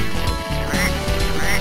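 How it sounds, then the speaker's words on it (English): Ducks quack in a ghost-town level of a video game, a loud, dense burst of nasal honking calls layered over game music, close and continuous for under two seconds. "For ghosts, you sure sound like a duck."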